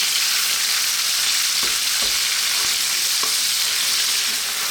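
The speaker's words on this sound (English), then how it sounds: "Okay, we're going to stir this in. We're going to cook this for about 4 minutes." Minced beef with onions fries over medium heat in a pan, a steady close sizzle broken by a few soft scrapes and knocks as it is stirred; no talking.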